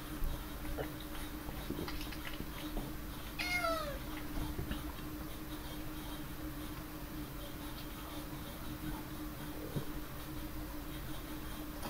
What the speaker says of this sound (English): That's a vegetarian cat.